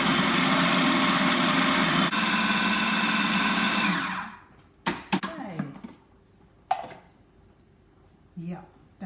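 A food processor pulses butter and flour into a crumbly mix for a shepherd's pie topping. It makes a loud, steady whirring buzz for about four seconds with a brief dip midway, then cuts off, leaving quieter clatter and voices.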